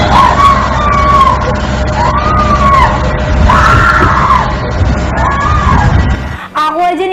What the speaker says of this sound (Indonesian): tiba-tiba ada suara teriakan atau jeritan di dalam box itu